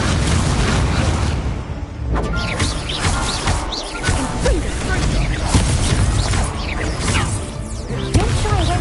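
Fire spell bursts from a Hogwarts-era wizarding video game, loud whooshing blasts and crackling impacts stacked densely over several seconds, with sharp hits near the start and end.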